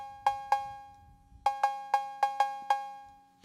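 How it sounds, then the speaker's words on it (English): Roland 808 drum machine cowbell struck seven times, a bright metallic two-tone ping with short decays, two hits, a pause, then five more in a quick syncopated run, clean and alone. "I mean, that is the 808 cowbell sound."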